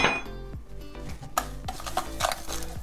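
Salt and sugar stirred with a spoon in an ordinary metal bowl give repeated close metallic scrapes and clinks in a steady rhythm, with no talk.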